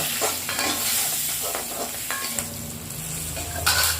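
Appalam kootu ingredients, including green chilies and turmeric powder, are stirred and fried in a pan: a soft, continuous sizzle broken by scraping spoon strokes close by, with no voices.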